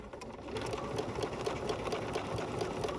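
Outline stitching around a fabric butterfly body keeps a sewing machine humming steadily up close, its fast even needle pulse running without a break and no one speaking.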